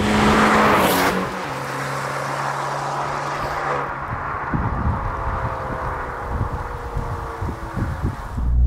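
Abarth 595 Competizione with a 1.4 engine and Monza valved exhaust revs loudly and close, a sharp burst up front settling into a rumbling, crackling idle and blips with no talking.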